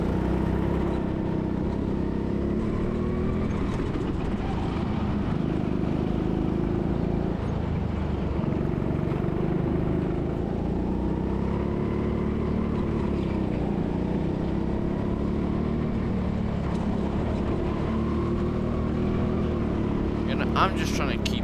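Go-kart engines race at Teamsport Leeds, a continuous loud, rough motor drone that rises and falls in pitch as the karts accelerate and brake through the track, close and unbroken throughout.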